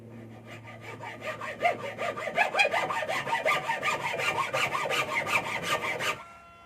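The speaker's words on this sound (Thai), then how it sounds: "มาดูการตัดขาที่สองกันเลยนะครับ" A hand saw rasps through a wooden furniture leg, cutting down a bedside cabinet leg, in quick, regular back-and-forth strokes, close and loud, stopping abruptly at the end.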